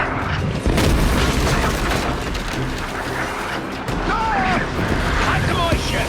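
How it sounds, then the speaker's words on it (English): Mortar shells burst and boom repeatedly during a chaotic battle in the video game Assassin's Creed Black Flag, heavy low thuds under shouting voices and clashing action, with crackling debris throughout. "Heads up! Mortars! Look sharp!"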